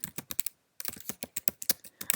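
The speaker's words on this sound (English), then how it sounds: "And then I can start typing here" Fingers typing on a computer keyboard, quick clusters of sharp key clicks with a short pause midway, close and clear, no talking.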